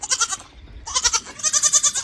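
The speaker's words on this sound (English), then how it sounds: "We're gonna go let the other goats out" Farm goats bleat in quick succession, two bursts of close, loud, wavering calls separated by a short pause, with no talking.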